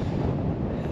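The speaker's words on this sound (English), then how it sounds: "It's a little windy." Steady broadband wind buffeting a microphone outdoors at a small airport with a restaurant, lounge and windsock, a continuous low rumble of gusts with no voices over it.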